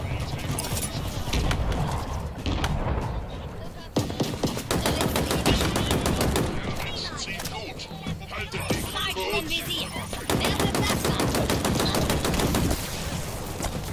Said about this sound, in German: Ich würde gerne ohne Anpeilen drauf schießen.